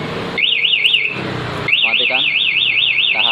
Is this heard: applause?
no